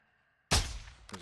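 After near silence, one sudden loud blast booms and decays with a rumbling tail, followed by a smaller burst, in the video game DMZ.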